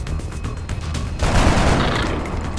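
A soldier's gun fires in XCOM: Enemy Within with a loud burst of rapid shots. Dense game noise fills the background before and after the volley, and no voice speaks.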